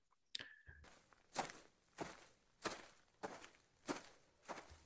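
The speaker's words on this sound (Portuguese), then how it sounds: "Esse é o som dos passos pisando na grama." Footsteps of a video game character walk across grass at an even pace, with about seven soft crunching steps in sequence and no other sound around them.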